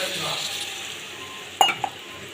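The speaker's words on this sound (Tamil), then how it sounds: "இப்போ இதில் வந்து நான் தண்ணி வந்து ஆட் பண்ண போகிறேன்" Water is poured into a cooking pot of Nellore-style fish gravy, a steady rushing pour lasting over a second, followed by two sharp metallic clinks of a utensil against the pot.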